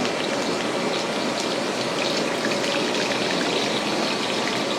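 Curry leaves sizzle in hot coconut oil while a country chicken fry is cooked, a loud, dense, continuous crackling hiss that stays even from start to finish with no voices.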